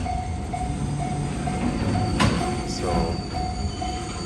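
Freight train rolling past in Japan, a steady close rumble of wagons with wheel squeal and metallic clatter, a brief louder burst midway, while someone says a word.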